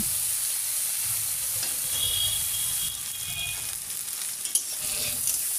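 Raw jackfruit pieces being stirred and fried in a pan, a constant bright sizzle with scattered spatula scrapes and a sharp clink, close and steady throughout.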